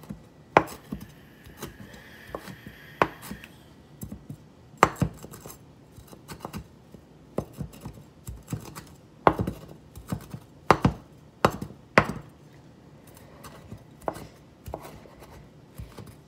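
Knife chopping fresh cilantro with its stems on a cutting board, crisp sharp taps in irregular bursts, close and fairly loud, with quieter gaps between runs of cuts.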